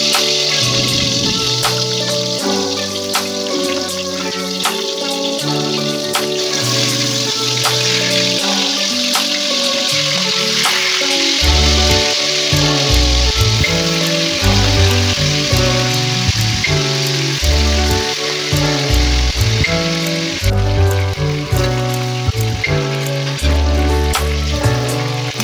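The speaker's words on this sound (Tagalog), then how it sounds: "Prepare lang natin yung kawali at lagyan natin ng konting mantika. Iba-fried lang natin yung chicken." Chicken sizzles steadily in a little cooking oil in a pan, a dense, even crackle that never lets up, with background music running underneath.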